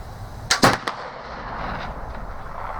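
Euroarms Kentucky flintlock rifle firing outdoors: a short sharp crack with a quick double burst, then a fading rumble and ambient wind.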